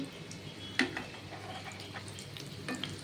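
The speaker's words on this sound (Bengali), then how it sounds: "তেলটা খুব গরম করে ধীরে ধীরে আছে ভাজবেন" Paneer frying slowly in very hot oil, a soft steady sizzle with a few small crackles and pops, faint and close, with no talking.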